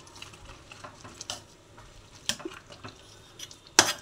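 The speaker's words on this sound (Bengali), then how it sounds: "এবার আমি সবগুলোকে নাড়া দেব।" Onion and chopped coriander leaves being stirred in a pan, with scattered soft scrapes and light clinks and a few sharper knocks near the end, close and quiet, no voices.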